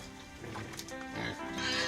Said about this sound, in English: Her friend too is doing well with her piggery project.